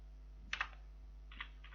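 Typing numbers on a computer keyboard while entering a sales voucher in Tally Prime: a couple of quick close keystrokes, then another pair a moment later, over a steady low hum.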